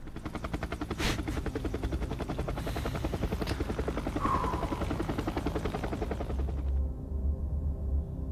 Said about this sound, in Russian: Так, вертолет куда улетел-то?